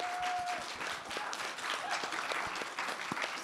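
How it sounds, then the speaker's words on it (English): An audience at a panel discussion on the art of Cantopop and performance applauds the guest speakers, steady dense clapping throughout with a few louder individual claps near the listener. "give them a round of applause to our guest speakers"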